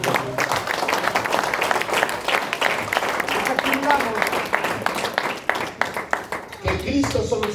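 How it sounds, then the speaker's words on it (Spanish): A church congregation applauds with many close, sharp hand claps in an irregular rhythm that thins toward the end, with a voice speaking over it. "Den un aplauso a Cristo."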